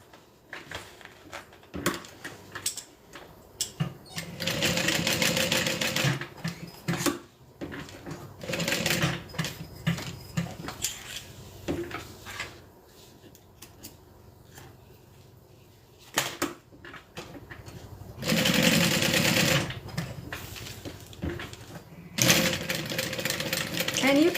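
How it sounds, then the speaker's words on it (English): Sewing machine stitching a crossbody bag, running in repeated bursts of rapid mechanical whirring and clatter, close and loud, with a person talking in the pauses between runs. "and then we're going to sew a rectangle"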